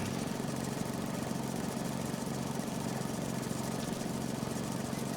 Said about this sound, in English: So, let's get another pass in here on the mowing.